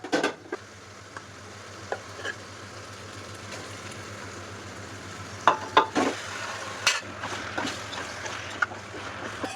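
Marinated chicken dropped into hot oil with softened onions sizzles steadily in a pan, with scattered clicks and scrapes of stirring that grow busier toward the end.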